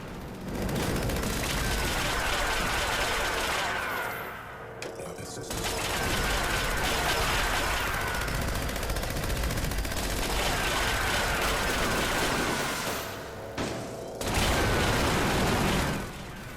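Vampire Gauss Minigun firing in Fallout 76 during a fight with the EN06 Guardian, a loud, dense, continuous stream of rapid shots that breaks off briefly twice before resuming.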